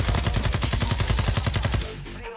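Rapid automatic gunfire from a SMG in the shooter video game Warzone 2, a fast rattling burst of close shots for about two seconds before trailing off.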